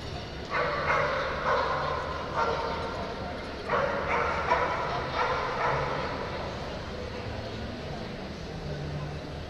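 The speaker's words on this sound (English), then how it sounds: "another tricolor puppy dog" Cocker Spaniel puppies at a national specialty dog show give bursts of sharp yips and barks in clusters, moderately close, over a steady murmur of ringside chatter and an announcer's voice.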